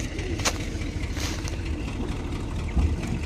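A tractor engine runs at a steady, low, rumbling idle in a wheat field during harvest while tractors are being changed, moderately close and alone without talk.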